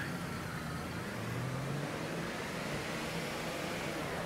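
A car driven in the Mafia 3 video game, its engine a steady broadband rumble with a brief rising tone in the middle, continuous and fairly loud throughout with no talking.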